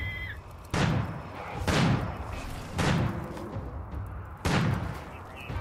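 Turrets firing in the video game RimWorld, four or five sharp, loud bursts of gunfire at irregular intervals, each with a trailing rumble over a low background hum.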